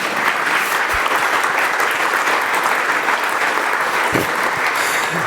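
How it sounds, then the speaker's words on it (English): Audience applauding steadily at a welcome address by a representative of the Technical University of Munich and German Aerospace Center, a dense, sustained clatter of many hands filling the room with no pause. "At this point, my manuscript says applause."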